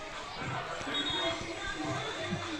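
Crowd at a high school football stadium murmurs and chatters well before the Wayne versus Cardinal kickoff, a soft, steady babble of distant voices with occasional muffled thumps close by.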